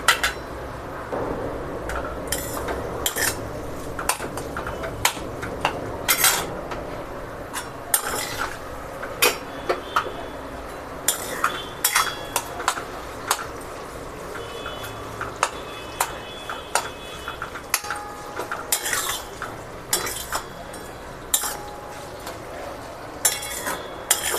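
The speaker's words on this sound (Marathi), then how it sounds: "आवळे ह्याच्यामध्ये तेलात छान परतून घ्यायचे आहेत" Amla (Indian gooseberries) sautéing in oil in a pan for amla chutney, heard as a steady low sizzle under frequent sharp clinks and scrapes of a utensil stirring against the pan, with no voices.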